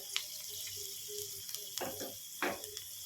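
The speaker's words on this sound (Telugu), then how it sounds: "లైట్ బ్రౌనిష్ వచ్చేంత వరకు సిమ్లో పెట్టుకొని లైట్ బ్రౌనిష్ వచ్చేంత వరకు వేగనివ్వండి" Mustard seeds, fenugreek and curry leaves fry in oil over low heat for a lentil dal with greens, giving a soft, steady sizzle with a few louder crackling bursts near the end.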